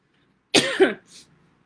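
A single close, raspy cough followed by a short breathy exhale in an otherwise quiet room.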